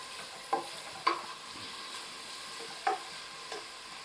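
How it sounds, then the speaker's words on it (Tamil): Onions sautéing over medium heat toward golden brown for mutton biryani cooked in a pressure cooker, a soft continuous sizzle broken by several sharp stirring scrapes and taps, close, with no talking. "மிதமான ஹீட்ல வச்சு பொறுமையா வதக்கணும்."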